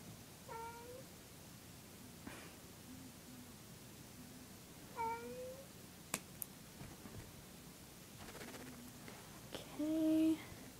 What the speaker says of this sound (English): sorry about that, that was my cat.